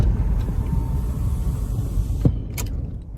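A steady low rumble of road and engine noise fills the cabin of a car driving through Los Angeles, with a couple of brief clicks near the end and no talking.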